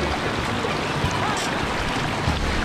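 El Barillo waterfall in Arcatao, Chalatenango, a broad, constant roar of falling and rushing water, loud and close with no break and no voices.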